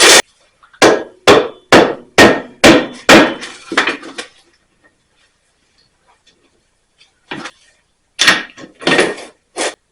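Sharp metallic slide hammer blows pull the hub from a rear wheel bearing on a 2008 Ford Escape in a rapid series of about a dozen, pause, then a few more loud impacts follow, close and ringing.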